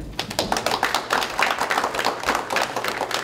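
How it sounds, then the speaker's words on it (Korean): An audience at a Democratic Party of Korea on-site supreme council meeting at Panmunjom claps to open the meeting: dense, brisk applause from a small crowd, close and loud for a few seconds. "모든 염원을 담아 박수로서 시작하겠습니다"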